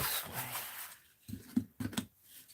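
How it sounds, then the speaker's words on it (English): Scissors snip through creased paper along a fold, a few short crisp cuts in an uneven rhythm, close and quiet with no talking. "let's cut it along the fold"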